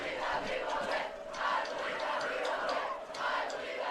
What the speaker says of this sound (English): you can hear the Warriors crowd getting excited, doing the "I believe that we will win" cheer